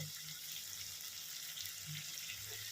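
Water is poured into Bihari-style chicken curry in a pan, making a steady, close splashing rush that continues without a break.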